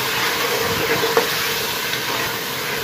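Chopped green chillies, ginger and tomato frying in masala in a home kitchen pan, a steady close hiss and sizzle with a faint stirring scrape partway through.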